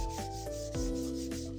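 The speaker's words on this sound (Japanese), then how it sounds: "240番ほどの紙やすりで表面を平滑にしていきます" Sandpaper of about 240 grit rubbed gently over painted wood, a few close, soft back-and-forth scraping strokes in quick rhythm, alone without talk.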